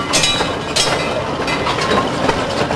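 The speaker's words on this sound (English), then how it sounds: "Four-wheeled battery locos are used for power." A four-wheeled battery locomotive hauls coal mine cars along 600 mm gauge rails, a steady rumbling roll with faint rhythmic wheel clicks close by.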